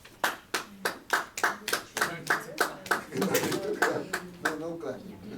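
A small group claps in sharp, rhythmic, near-unison beats in a classroom, with bird-like cooing and scattered voices mixing in toward the end as the claps grow uneven.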